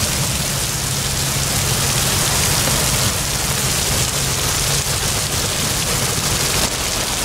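Heavy rain pours steadily over flooded streets of Vila Prudente, whipped by strong wind, a dense, loud, unbroken roar with a low rumble underneath and no speech.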